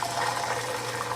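Liquid from simmered corn cobs strained off in a kitchen, a steady continuous pour and splash of water lasting about a second, moderately loud and close with no voices.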